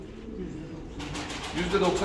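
Costume pigeons coo softly at a breeder's loft in Gemlik, low murmuring calls under a man's speech and faint background rustle.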